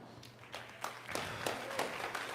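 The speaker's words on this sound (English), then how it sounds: "Not very loud claps there" A short stretch of quiet, scattered applause from a small crowd, soft uneven claps rising slightly toward the end, fairly distant and not very loud.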